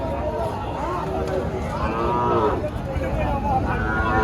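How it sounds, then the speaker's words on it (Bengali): A bull calf lows at a busy cattle market in Joypurhat, Bangladesh. Repeated drawn-out moos rise over a steady crowd murmur, with people talking throughout. "সুন্দর একটা ষাঁড় বাচ্চা।"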